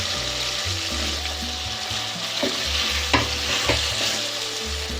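Potatoes fry in a pan with tomato and ginger-garlic paste for a mixed vegetable sabzi, a continuous close sizzle under repeated stirring scrapes and a few sharp spoon knocks, with no voices.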